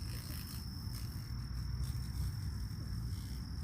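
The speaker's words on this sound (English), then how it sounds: "wow, did you hear that buzzing?" Steady, dense chirring of insects outside a tent at night, a continuous close drone with a thin high whine running throughout, no voices.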